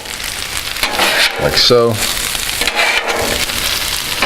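Sauerkraut stirred into butter in a hot pan, a close, continuous sizzle and crackle with scraping of the stirring utensil, and someone speaking briefly over it.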